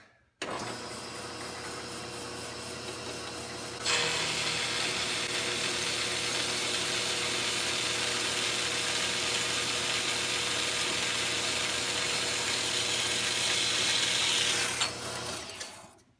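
A bandsaw cuts through metal stock with a loud, steady whine over a low motor hum. The sound grows harsher as the blade bites into the workpiece, holds for about eleven seconds, then stops abruptly.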